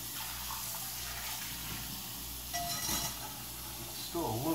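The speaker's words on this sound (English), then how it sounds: "now you just rinse" Tap water rinsing a still-warm cast iron pan after cooking eggs, a soft, steady running stream close by that swells in gushes near the end.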